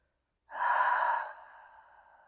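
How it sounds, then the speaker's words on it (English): One deep exhale through an open mouth, close and breathy, starting abruptly after a moment of silence and fading into a softer trailing breath. "open the mouth, exhale"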